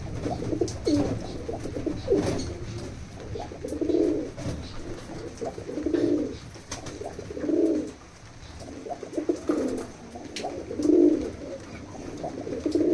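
Loft pigeons coo in steady repeated phrases, a low rounded call returning roughly every two seconds, close and clear over faint background hiss with no talk.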